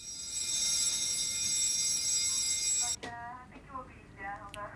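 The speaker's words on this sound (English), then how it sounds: "Unknown to the men, they triggered an alarm." An automatic alarm at a football social club sounds as a steady, loud, high electronic tone for about three seconds, then cuts off and a voice speaks.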